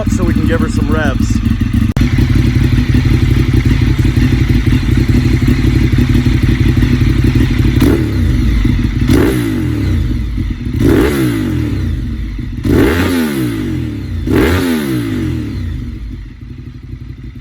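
A Ducati motorcycle with an aftermarket titanium and carbon fiber exhaust idles with a deep, rumbling note, then gets revved hard about five times in quick succession, loud and close.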